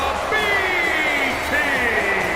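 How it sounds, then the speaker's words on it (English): A large arena crowd in the WWE 2K20 wrestling game, during a RAW show in London, England, reacts to the B Team's entrance with a dense steady roar and rising whistles and whoops, continuous and fairly loud throughout. "The B Team not getting a great reception from the crowd, but at least they got them chanting"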